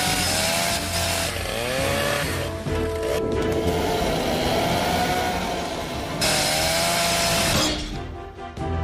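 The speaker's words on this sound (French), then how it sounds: "le guide d'une tronçonneuse qui est en marche, là en train de couper un arbre" A chainsaw runs loud and close, its engine pitch rising and falling as it bites into a tree, with a brief easing midway before revving again.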